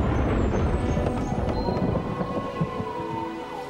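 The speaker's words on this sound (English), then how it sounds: "It was the sound of bowling balls." A heavy rumbling roll with low booming and a long whining tone, loud and continuous, like bowling balls rolling down lanes.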